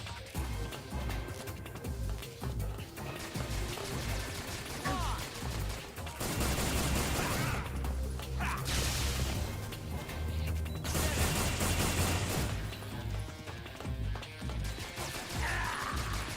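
Dense gunfire rattles through a Metal Gear Solid 3 firefight in bursts and sustained volleys, loud and continuous, over crashes and game noise.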